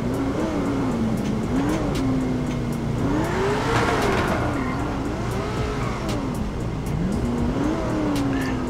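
In GTA 5, a truck engine drones steadily throughout, its pitch rising and falling as the throttle changes, while tires squeal repeatedly, close and loud, with no talking.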